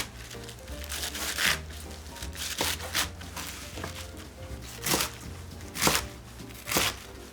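A knife chops napa cabbage into 2 cm pieces on a cutting board, giving a series of crisp, crunchy thuds in an uneven rhythm, close and moderately loud, with soft rustling of leaves between strokes.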